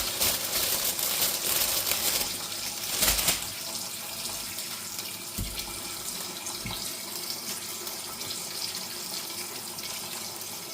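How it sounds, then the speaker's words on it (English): A kitchen tap runs steadily while lettuce and tomatoes are washed under it, a constant hiss of water with brief splashes and clunks as the produce is handled. "let me wash the tomatoes"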